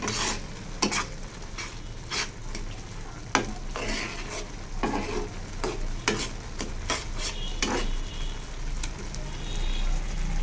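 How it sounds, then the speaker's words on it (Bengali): Noodles cooking in a pan give a steady close sizzle, with repeated scraping stirs of a utensil running throughout and no talking. "আমি এবার নুডলস রান্না করতেছি"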